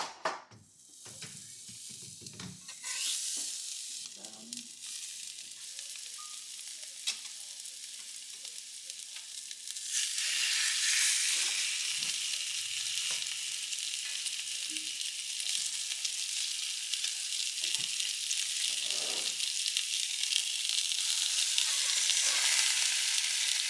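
Salmon sears in a hot pan with a steady sizzling hiss that grows louder and fuller partway through, alongside an occasional scrape or stir and no voices.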